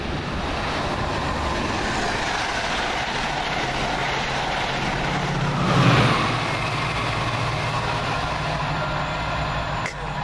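A Chiltern Railways passenger train rumbles steadily past at close range through Dorridge station, a continuous loud roar of wheels and engine with a brief swell in the middle, no talking.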